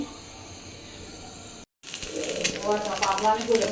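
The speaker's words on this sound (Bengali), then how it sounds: "ডিম ভাজা দেখ ডিম ভাজা শেষ" Eggs fry in a pan, a soft hiss at first that swells into a louder, close crackling sizzle after a brief gap, with a voice heard faintly alongside.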